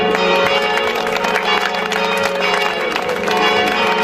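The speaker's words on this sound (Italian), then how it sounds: "E le campane stanno suonando per salutarci" Parish church bells ring to send off walkers on the Cammino di Santa Barbara, making a steady, dense, loud clanging peal that fills the whole stretch without a pause.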